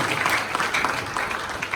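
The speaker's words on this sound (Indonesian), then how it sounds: "kasih tepuk tangan bagi Bapak ya" Brief burst of congregational applause during a church sermon on the death of Jesus, a dense, even patter of many hands.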